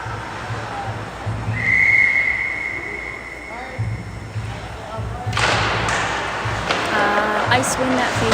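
A referee's whistle blows one long, steady shrill blast at an ice hockey game, loud over arena noise and a commentator's talk, followed by thuds and crowd clatter.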